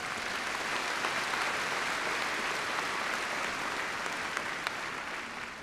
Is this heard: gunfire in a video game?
no